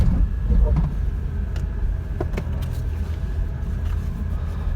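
A 2008 Nissan Xterra, a two-wheel-drive salvage SUV, driving with a steady low engine and road rumble inside the cabin, the drone holding even as it shifts, with a person talking over it.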